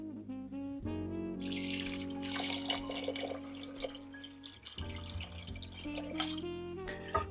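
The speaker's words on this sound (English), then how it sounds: "I'm just going to cover that with water" Water runs from a tap into a pot of lamb for Welsh cawl on a medium heat, a steady rushing splash from about a second and a half in until near the five-second mark over a low, humming drone.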